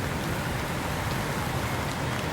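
Steady, dense hiss of rain falling during a road bicycle race near Barcelona, a constant wash of noise with no breaks or voices.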